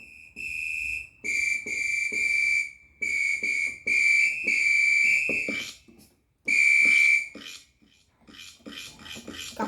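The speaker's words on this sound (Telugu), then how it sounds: "Whistle guys, whistle." A whistle sound effect played on a Yamaha keyboard, with a series of clear, sustained high whistling notes in short phrases, loud and close, broken by brief silences.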